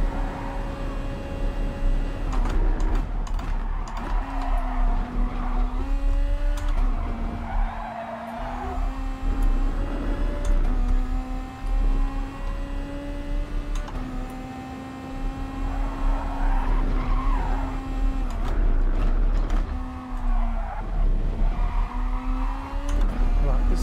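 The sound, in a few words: Toyota Supra race car passing, GT Sport video game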